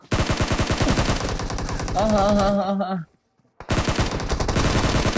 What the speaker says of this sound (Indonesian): gue ditembak dari yang jauh